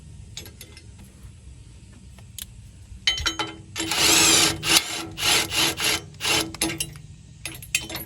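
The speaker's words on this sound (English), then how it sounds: "I can run these up with my speed wrench once you get them started." A speed wrench spins nuts down onto flat washers on a Bad Boy Rogue mower's striper, giving a series of loud rhythmic metallic whirring bursts after quieter scattered clicks and handling noises.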